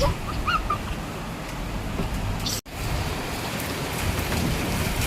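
Heavy rain with hail pours down in Pune as a dense, loud, steady roar, cut by a sudden brief dropout midway, with no voices.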